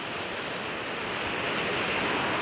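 Loud, continuous rush of rough water and surf, with wind noise buffeting the microphone and no pauses.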